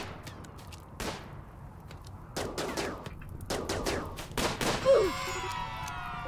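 Turret gunfire during a pirate raid in Rimworld: a string of sharp, snapping shots arrives singly, then in quicker irregular bursts, ending in a crashing impact with a ringing, rattling tail.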